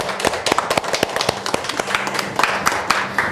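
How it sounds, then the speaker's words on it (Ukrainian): Scattered handclaps from guests at a wedding ceremony as a couple is declared married, with irregular claps of mixed strength and a faint voice underneath. "Ваші оплески!"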